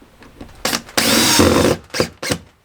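A power drill drives mounting screws for a security camera, in two short bursts followed by a longer sustained whir, then a few brief quieter pulses; the sound is close and loud.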